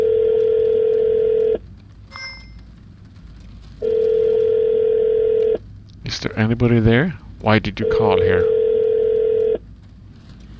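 A steady telephone dial tone from the video game Shadows of Doubt sounds in long even bursts separated by gaps, with brief dialing beeps early on, and a voice speaks in the middle of the clip.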